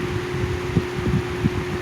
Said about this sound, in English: the most powerful box fan, 250 volt motor, and it'll blow the cover off your bed